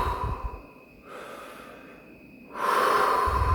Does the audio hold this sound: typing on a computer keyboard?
no